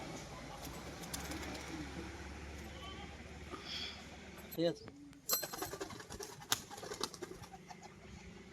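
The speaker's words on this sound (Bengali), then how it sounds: "এটাও কিন্তু সেম বাজি পায়রা" Bazi pigeons, a male and female pair, give soft coos amid wing flutters and small bumps, while someone talks nearby over the birds.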